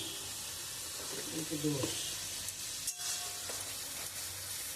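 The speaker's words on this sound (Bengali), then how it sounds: "এবার একটু নাড়াচাড়া করি" Chicken balls in a spicy gravy seasoned with chilli powder and a little sugar are stirred in a pan, giving a steady hissing sizzle with a brief scrape of the spoon partway through.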